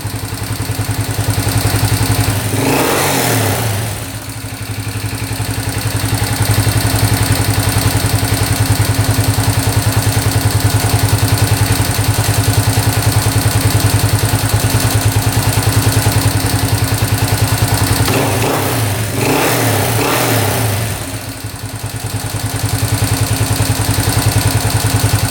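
A $500 street legal dirt bike sits idling at a steady, loud, continuous chug, the engine note holding level throughout with a couple of brief louder swells.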